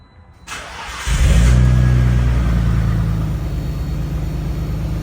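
A Nissan Skyline R34 GT-R V-spec engine cranks briefly, then fires into a loud, deep rumbling idle through a throaty Tomei titanium exhaust, steady and close.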